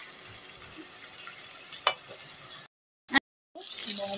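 Meat sizzles as it is sautéed in a pan for biryani, a soft, steady hiss nearby with a sharp tick or two, broken by two abrupt silent gaps before the sizzle returns.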